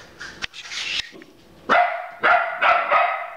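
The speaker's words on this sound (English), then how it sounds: "You see a dog over there?" A dog barks in several loud, sharp bursts close by, with a shorter yip early on and a string of barks in the second half.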